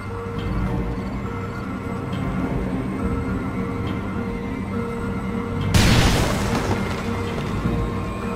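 Grenade detonation in the video game Rainbow Six Vegas, one sudden loud broadband boom bursting out over a steady low background rumble and decaying slowly.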